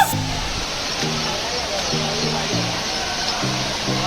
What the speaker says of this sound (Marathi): एक नंबर वॉटरफॉल.